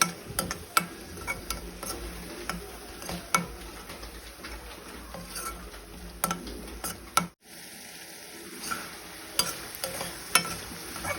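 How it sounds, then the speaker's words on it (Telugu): Ground masala paste frying in a pan for an alasandalu and potato curry, a steady soft sizzle with scattered ticks and stirring scrapes, briefly cut off near the end before quietly resuming. "ఇలా గ్రైండ్ చేసుకున్న పేస్ట్ను ప్యాన్లో వేసుకొని బాగా మసాలా అంతా మగ్గేంత వరకు వేయించుకోవాలి."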